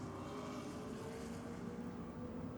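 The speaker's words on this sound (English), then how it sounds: "He's got to build a little bit of boost in the Calais. Hear it coming up now on the trans brake." A Holden Calais drag car at a drag racing meeting holding on the trans brake, its engine droning steadily as it builds boost, a continuous distant rumble with no talking over it.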